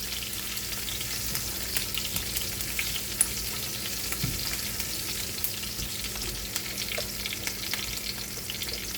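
Chopped onions and chili fry until brown in a pan of oil, a steady close sizzle and crackle with light stirring, continuous and even throughout with no talking.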